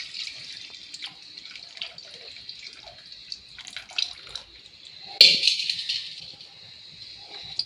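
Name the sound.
pouring buttermilk into a pot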